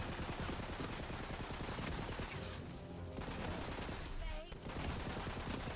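Rapid sci-fi gunfire from a projectile-shooting weapon in Tiny Tina's Wonderlands, a dense continuous rattle of shots that drops out briefly near the middle, with faint talk mixed in.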